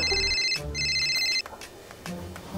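A phone rings with a bright electronic ringtone, repeating high tones in short bursts over a noisy background hum.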